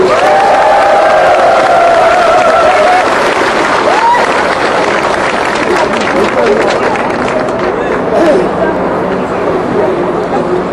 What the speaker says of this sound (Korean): 우리 모두를 위해서 힘찬 박수 부탁드리겠습니다.